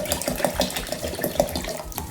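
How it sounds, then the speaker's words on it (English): Bleach pours steadily into a container of water while C-41 photo chemicals are mixed, a continuous close trickling and splashing with no speech. "What I'm gonna do is just add bleach in here, up to 2 liters."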